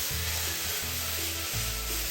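Shredded coconut filling for sago dumplings is stir-fried over high heat in a wok, a loud, steady sizzle with repeated scraping strokes of the spatula close up, and no talking.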